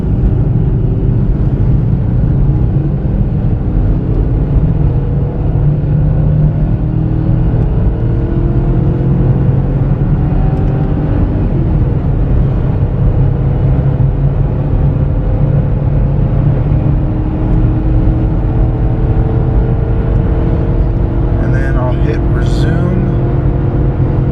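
A 2009 Volkswagen Touareg TDI diesel SUV towing a trailer in second gear, its engine a steady, loud, close drone with road and cabin noise that holds level throughout.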